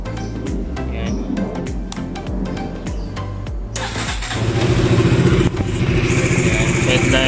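A KTM RC motorcycle switched on and started, its engine catching partway through and then running steadily and fairly loud, with a spoken voice over the sounds before it fires.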